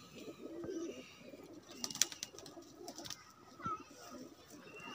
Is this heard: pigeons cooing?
yes